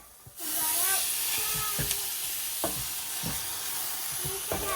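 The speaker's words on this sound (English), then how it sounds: "So caramelizing these onions." Onions caramelize in a hot pan, giving a steady loud sizzle that starts abruptly and keeps hissing, with occasional stirring scrapes and pops and a faint voice now and then.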